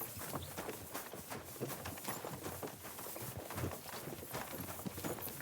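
Horse hooves clip-clopping steadily at a trot in the video game Kingdom Come: Deliverance II, a brisk regular rhythm of soft hoof strikes heard up close without voices.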